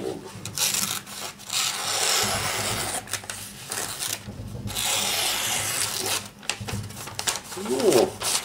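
A Buck 110 folding knife cuts crosswise across wood in repeated rough scraping strokes, loud and close with short pauses between passes, and a voice speaks briefly near the end.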